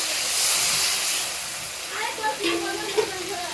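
Water poured into a pan of frying fish curry made with river bagha fish, a loud broad hiss and sizzle at first that settles into softer bubbling and steaming with small pops, close up.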